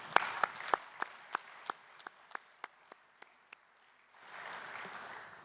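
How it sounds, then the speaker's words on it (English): About a dozen separate, slow claps ring out one by one in a union congress hall, then a soft wave of wider applause swells near the end. The sound is fairly quiet throughout. "please give yourselves a big round of applause"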